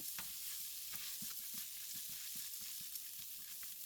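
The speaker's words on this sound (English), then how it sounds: "You want to make sure that you're continuously stirring this mix." Rice for risotto is stirred in a sizzling pan, a steady bright frying hiss under a repeating pattern of soft scraping strokes roughly every half second, close up and without voices.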